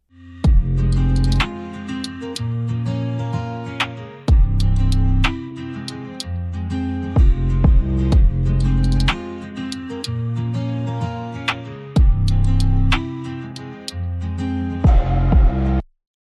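Drill beat instrumental with guitar, bass guitar and drums, loud and steady, with deep bass hits, sharp percussive transients and looping chords that repeat in bars before cutting off abruptly at the end.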